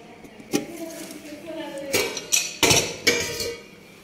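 A lid set over a dish of rice in a home kitchen, with several metallic clanks and clinks of pot and utensil scattered over a few seconds, close and fairly loud.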